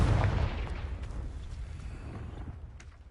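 Confringo spell exploding in Hogwarts Legacy: a heavy blast opens the sound, then a dense rumbling tail gradually fades over a few seconds, with faint crackles scattered through the decay.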